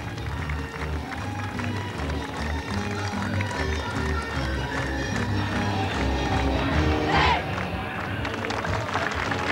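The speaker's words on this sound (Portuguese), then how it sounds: "o aplauso efusivo da plateia que se encontra ao longo de toda a Avenida do Mar" Spectators lining the Avenida do Mar clap and cheer during a flower festival parade, a broad crowd roar with a steady low rumble beneath it.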